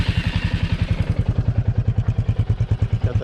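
A Royal Enfield Supernova 350 single-cylinder motorcycle starts up and settles into a loud, close thumping idle, its even, rhythmic pulses repeating steadily with no talking.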